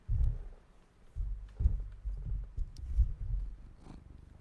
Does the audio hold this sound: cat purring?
yes